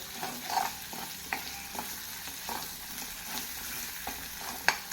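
Ginger-garlic paste and turmeric sautéing in hot oil for a Maharashtrian rasa puri bhaji, with a steady soft sizzle under light stirring scrapes and a few spoon taps, no talking.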